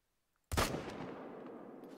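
A single sharp rifle shot at an albino warthog in theHunter Call of the Wild rings out after a brief silence, loud and close, then decays into a long echoing tail.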